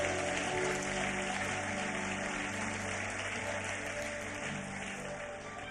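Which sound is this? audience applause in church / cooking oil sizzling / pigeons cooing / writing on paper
audience applause in church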